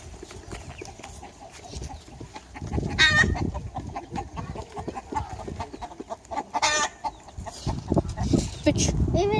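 Chickens cluck and squawk on a farm, several birds close by in bursts of calls, with a rooster's crow rising at times and a person talking over them.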